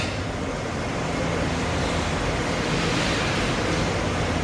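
A stormy sea roars in a constant, loud churn of surf and wind, a dense, unbroken wash of noise with no voices.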